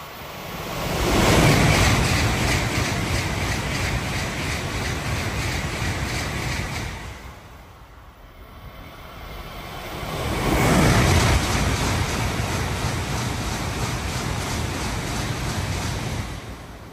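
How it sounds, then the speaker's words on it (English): Two Tokaido Shinkansen N700-series trains, an N700A Hikari and then an N700S Nozomi, rush past at high speed, each a loud close whoosh swelling and fading, separated by a brief lull. "two Tokyo-bound Shinkansens fly past"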